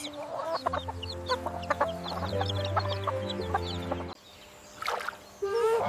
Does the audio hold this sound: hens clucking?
yes